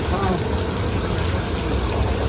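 Water gushes from above into a water tanker in a dense, even rush, continuous and strong.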